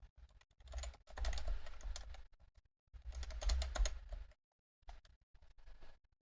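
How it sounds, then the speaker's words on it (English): Typing on a computer keyboard during parts sourcing for an AMSAT CubeSat simulator build, with close rapid clicky keystrokes in two long bursts separated by short pauses and a few scattered taps at the end. "I'm going to have to just type it for crying out loud."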